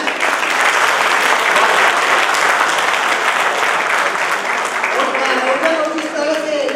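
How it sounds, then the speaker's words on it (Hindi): Audience applause at a Hindi kavi sammelan poetry gathering: dense, sustained clapping from a large crowd, loud and steady throughout, with a voice starting to speak over it near the end. "जोरदार ताली बजाएं।"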